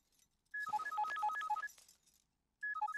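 A phone plays a melodic electronic ringtone in a comedy scene from a Telugu film, a bright repeating tune lasting over a second, pausing, then starting again, clear and fairly close.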